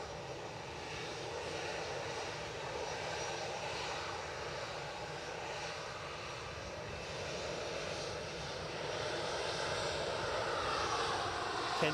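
A Brussels Airlines jet departs Edinburgh Airport, a broad, distant engine roar that holds steady and swells slightly toward the end.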